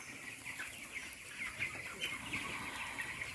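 Fifteen-day-old broiler chickens cluck and chirp continuously in a brooding house, a dense overlapping chorus of many birds at steady, moderate loudness with no talking.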